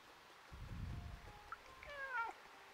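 A cat meows in the video game Stray: a soft low chirp, then a brief rising tone and a clear, drawn-out meow near the end, fairly close over quiet game ambience.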